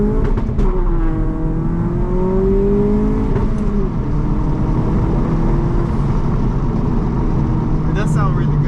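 A modified 2022 Honda Civic Si on a night drive gives a loud, steady engine drone with a rising then falling tone, plus a few sharp pops and burbles near the start and end.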